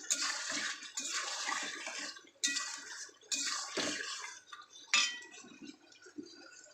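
Water poured into a pan of vegetable and fish curry masala after the spices are fried, splashing in several bursts with a clatter of utensils, close and fairly loud, no talk.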